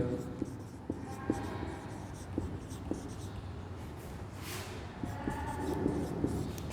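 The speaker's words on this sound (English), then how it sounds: "while I am writing the second question" Chalk taps and scratches steadily on a classroom board as an English question is written out, with regular soft ticks over constant room noise and a faint background hum, near and moderately quiet.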